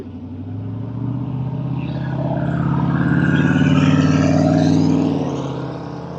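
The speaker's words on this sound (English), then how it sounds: "now that those burnouts are done" A car engine revs hard during burnouts, a loud continuous roar that swells toward the middle and eases slightly at the end, close by with no talking.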